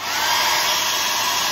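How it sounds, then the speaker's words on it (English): A handheld hairdryer blows steadily at close range, a loud continuous whooshing roar with a faint motor whine, running on its own without talk, used as a blower for acrylic pour painting. "So I was going to use this hairdryer"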